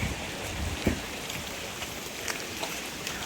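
Rain falls on a farm around a house, a constant soft patter with scattered heavier drops, fairly close and without voices.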